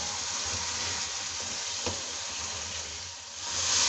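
Chicken with yogurt frying hard over a high flame in a choliya chicken curry, giving a steady, dense sizzling hiss that stays even throughout, with one faint click partway through.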